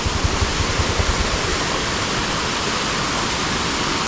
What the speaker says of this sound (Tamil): அப்படியே பெரிய ஒரு பாறையில் சூப்பராக தண்ணி இறங்கி அப்படியே கீழே வருது பாருங்கள்